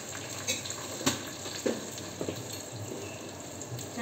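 Dried red chillies and asafoetida frying in hot oil for a tempering, a quiet, close sizzle broken by a few soft pops and crackles as the spices hit the pan.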